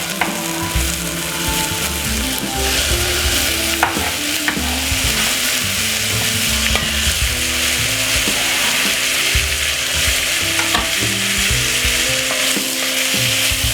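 Garlic, white onion, thyme and mixed vegetables fry loudly in a pan, a dense continuous sizzle with occasional stirring scrapes throughout.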